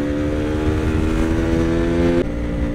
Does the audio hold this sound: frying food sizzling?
no